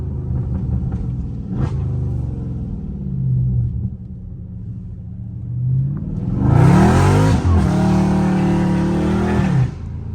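A Dodge Scat Pack engine rumbles close and loud while drifting, holding a deep steady drone, then revving up hard midway with a rising roar before settling back down; no voices over it.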